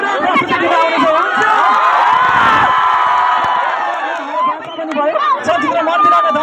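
A school crowd cheers, whoops and claps for its school, a loud dense mass of children's shouts and voices that briefly dips before swelling again.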